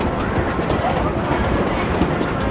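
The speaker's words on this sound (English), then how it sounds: "the train has been steadily climbing since it left Antonito" The Cumbres and Toltec scenic railroad train climbs out of Antonito toward Cumbres Pass, a loud, steady rumble of rolling cars with faint clickety-clack from the rails, heard close up and continuous.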